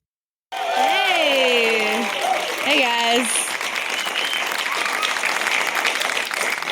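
Audience applause for a comedian at a live stand-up show in Sydney, loud and sustained from start to finish as the comic begins speaking over it.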